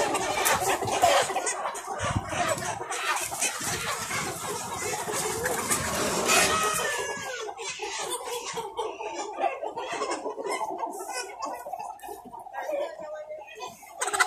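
Chickens cluck and fowl call throughout, apparently a flock of about 3000 Cao Khanh chickens on a farm awaiting sale. The clucks are continuous and moderately loud, mixed with people talking.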